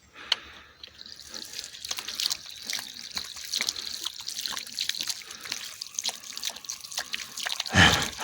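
Water poured from a bucket over a hand outdoors at a rainy woodland camp, a close trickling and dripping splash running steadily for several seconds, with a brief louder splash near the end.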